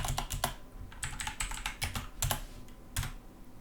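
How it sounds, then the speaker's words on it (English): Number being typed on a computer keyboard, a quick run of close, crisp key clicks in short bursts with brief pauses, alone without talk. "is going to be us actually typing the number"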